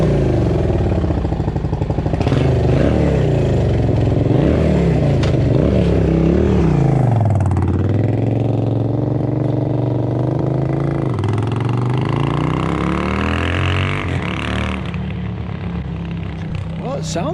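A Suzuki motorcycle engine runs loud and close, revving up and down several times in rising and falling sweeps.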